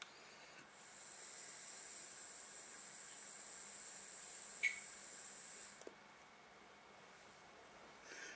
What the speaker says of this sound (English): I'm taking direct lung hits.